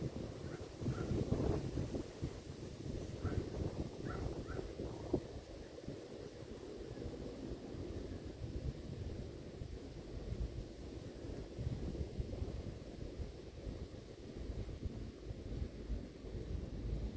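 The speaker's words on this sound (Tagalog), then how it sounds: "Lakas ng hangin" Strong wind roars steadily across the microphone outdoors on a fishing trip for snakehead, a continuous loud rushing with low rumbles and no clear talk.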